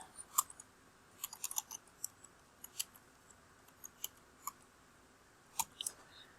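Computer keyboard keys are tapped in short, irregular bursts of crisp clicks, close and fairly quiet, with brief pauses between clusters and no speech.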